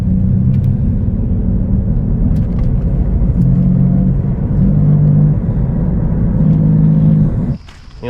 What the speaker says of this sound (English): when I turn left, it rubs